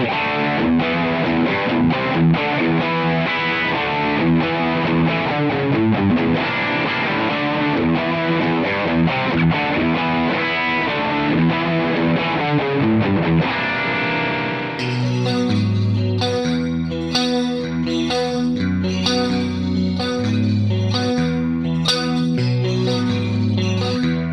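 Electric guitar through an amp modeler using a high-power Brilliant amp model, played with a crunchy, overdriven tone, strummed chords and riffs that continue without pause, with a brighter, fuller section in the second half.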